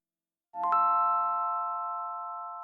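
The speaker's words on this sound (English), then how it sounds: "strumming the chords from a Rhodes piano" A mellow Rhodes electric piano chord sounds after brief silence, its notes strummed quickly then sustained with a long, gentle decay, played alone.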